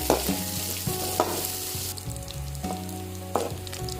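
Onion fries in a pan for tomato sambar, a steady sizzle broken by repeated scraping stirs of a spatula at an uneven rhythm, close and fairly loud, without talk.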